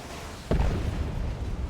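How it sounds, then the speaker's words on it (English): A single heavy explosion from the Ork battle wagon's big boom shot in Dawn of War 2: Retribution, booming out abruptly over steady battlefield noise in a 3v3 match. "Big boom shot, or whatever it's called, from the battle wagon, forcing off Katashans"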